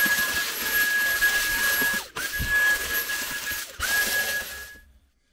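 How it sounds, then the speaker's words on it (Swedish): Small vacuum cleaner running inside a camper van, a steady, loud high whine with brief dropouts as the nozzle moves, then stopping near the end. "Så ta och köra lite dammsuga."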